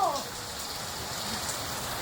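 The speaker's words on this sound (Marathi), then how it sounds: "अजून पाऊस थांबायचं नाव घेत नाही, येतोय जातोय" Unseasonal rain falls steadily in Mangaon, a constant even hiss of drops on surfaces with no break, close and moderately loud.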